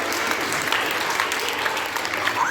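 Steady applause from an audience at a school science quiz, a continuous dense patter of many hands clapping throughout, fairly close and with no voices over it.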